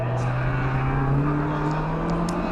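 A Peugeot 205 GTI race car running at Donington Park GP circuit during a CSCC Tin Tops race, its engine holding a steady, loud drone at a constant pitch throughout.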